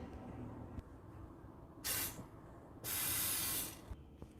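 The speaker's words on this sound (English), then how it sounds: "So now you need to flip it and spray some oil." Cooking oil sprayed from a can onto chicken wings partway through air frying: two sharp hissing bursts, a short one followed by a longer one, close and clear over faint background noise.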